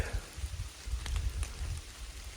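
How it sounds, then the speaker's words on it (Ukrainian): Steady rain pattering on leaves and undergrowth in a forest, a soft continuous hiss with a few sharper drops and low rustling close by. "Що ж, друзі, дощик падає"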